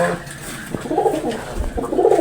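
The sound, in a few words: pigeons cooing in a loft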